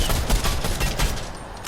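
Rapid gunfire in the video game Fortnite, a quick burst of repeated sharp shots in a close, dense fusillade.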